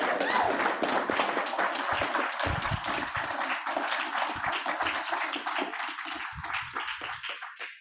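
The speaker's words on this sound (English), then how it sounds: "please, let's give him a warm round of applause" An audience at a local Democratic Party meeting applauds Dr. Bob Lorinser, a warm round of clapping that is full at first and thins into scattered individual claps before fading out.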